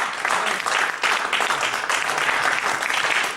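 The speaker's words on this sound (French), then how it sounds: "Et j'aimerais que tu acclames ce Dieu." A church congregation applauds and acclaims God, a steady, full wash of clapping and cheering that holds at an even loudness throughout.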